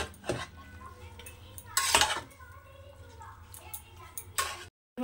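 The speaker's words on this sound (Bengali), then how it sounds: "দেখুন এবার এর সঙ্গে এগুলো তো খুব ভালো করে মিশিয়ে নেব।" Utensils scrape and clatter against a pan while green jackfruit is mixed for a Bengali dish, with a few sharp louder knocks between quieter stirring and a voice talking.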